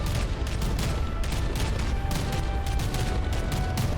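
Cram cannons firing on a battleship in From the Depths produce a dense, continuous barrage of booming shots and rumbling impacts that overlap with no pause, loud and close.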